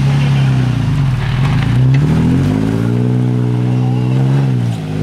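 An off-road vehicle's engine labours loud and close while climbing a hill, its pitch sagging and then rising as it revs hard in second gear before easing off at the end.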